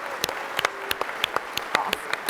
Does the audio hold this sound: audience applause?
yes